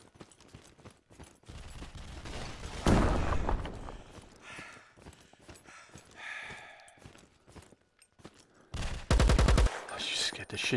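Gunfire in the PSVR shooter Alvo: bursts of shots scattered across the clip, with a loud heavy volley near the middle and a sustained automatic burst toward the end, mixed with faint game noise and no talk.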